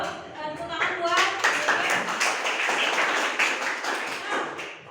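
Schoolchildren in a classroom clap their hands together in a short, lively burst of close clapping, with voices mixed in as it begins.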